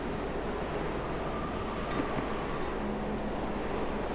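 Train in the video game Marc Ecko's Getting Up: Contents Under Pressure, a faint, steady rolling rumble of rail cars with a brief thin whine partway through, no talk.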